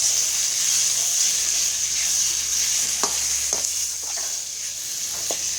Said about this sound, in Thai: ผัดไปจนหอมครับ